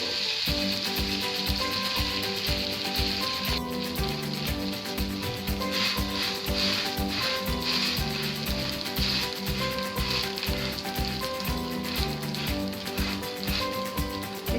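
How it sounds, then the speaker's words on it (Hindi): Rava bread sandwich toasting in ghee on a hot pan over a low flame, giving a continuous close sizzle with light rubbing sounds throughout. "इसमें मैं अभी अच्छे से घी डाल दूंगी। अभी मैं इस पे अपना सैंडविच डालूंगी।"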